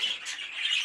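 A young cinnamon opaline grey hen, a pet budgerigar-type bird, lets out a single harsh, sustained squawk lasting under a second, close and fairly loud, alone with no talk.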